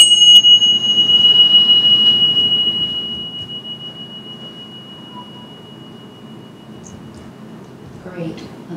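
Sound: meditation chime being rung

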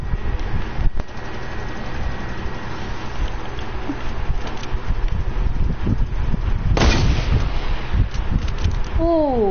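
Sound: gunfire in the video game RO

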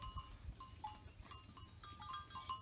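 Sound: goat bleating

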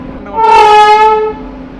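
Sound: Howrah Black Diamond Express train arriving at Bandel station

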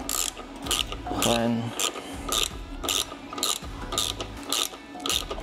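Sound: tightening the nut on a Harley Sportster lowering shock

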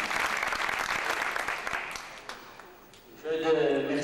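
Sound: audience applause at a gala

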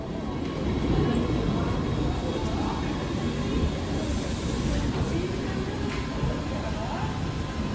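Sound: riding on a train in Switzerland

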